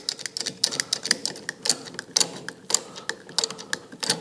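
Clamp being tightened onto a block on a crosscut sled fence, a quick series of near, sharp clicking and ratcheting ticks at an irregular, rapid rhythm.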